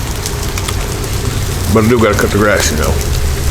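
Steady rain falls on a covered deck beside a Blackstone griddle grill on a spring day, an even hiss throughout with someone speaking over it.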